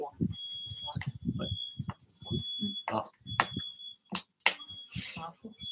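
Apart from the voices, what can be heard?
alarm ringing from a neighbouring building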